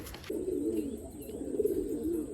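Pigeons, including a Fulshira, coo softly and continuously in a low, rolling murmur close by. A short noise burst comes at the very start.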